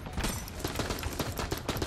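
Rapid gunfire in the video game Enter The Gungeon, a dense burst of repeated shots in quick irregular succession, loud and close with no talk over it.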